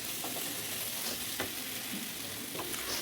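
Spice paste with a little sugar stir-fried in a pan for a lentil-dumpling curry, a steady soft sizzle with a few faint scraping stirs, close but quiet, no voices.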